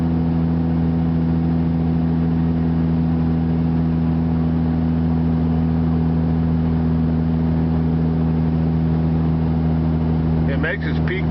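Heavily loaded diesel pickup grossing 19,000 pounds labors up a steep hill, its engine droning steadily and loudly close by with constant low rumble throughout, a brief disturbance near the end.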